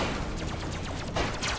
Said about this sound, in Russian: Там и на мосту стреляют